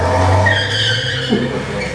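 A truck pulls away with its tires skidding, staged as a sound effect in a scary audio drama; a steady, loud engine roar with a squealing skid runs throughout, close and continuous.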